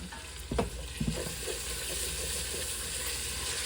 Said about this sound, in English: Just stir this.